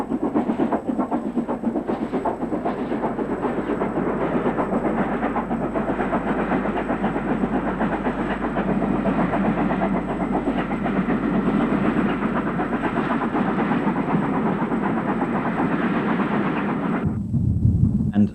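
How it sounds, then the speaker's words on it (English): LNER A3 steam locomotive 4472 Flying Scotsman, newly repainted, hauling a special train, rumbles past in a steady, loud rolling roar of wheels and carriages that runs for most of the stretch, then cuts off abruptly near the end. "Here we see the newly repainted A3 number 4472, the famous Flying Scotsman,"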